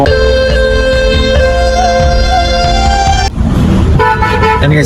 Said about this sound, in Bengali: আমাদের গাড়ি কিন্তু চলে আসছে ইতিমধ্যে আমরা গাড়ির সামনে যাচ্ছি